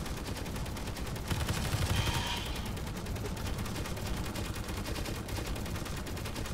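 Automated turrets in the space game Space Engineers fire in rapid continuous bursts, a dense rattling gunfire chatter that carries on steadily at a moderate distance.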